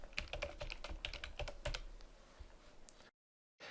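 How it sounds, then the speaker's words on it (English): Rapid typing on a computer keyboard, a dense run of close clicking keystrokes for about three seconds, then a brief silence before more sound, with no voices. "I'll simply type the keyword phrase men's shoes into the provided box"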